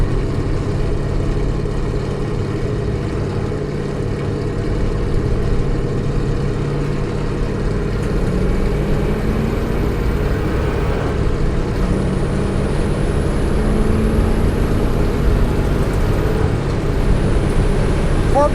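A 1966 Chevrolet Impala with a crate 350 V8, EFI and a five-speed drives down the road, its engine a steady low rumble with road and wind noise, continuous and near, with speech over it.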